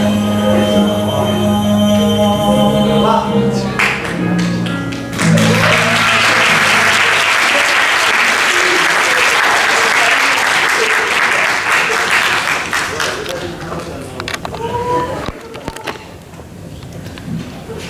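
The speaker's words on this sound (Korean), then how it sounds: "박수 감사합니다." Audience applause at a church decision worship service, a dense sustained clapping that swells in after a brief musical passage and runs loud for several seconds before thinning out.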